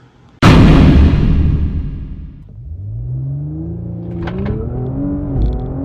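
Audi S5 with upgraded transmission and motor mounts launching hard from a standstill: a sudden loud engine roar, then rising revs that climb through gear shifts, close and powerful, with no talk.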